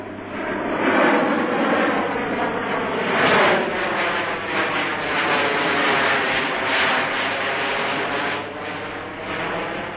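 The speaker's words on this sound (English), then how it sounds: "the noise of a comet as it flies low overhead" De Havilland Comet jet airliner flying low overhead, a loud, broad roaring rush that swells and wavers continuously for the full length, with no voices over it.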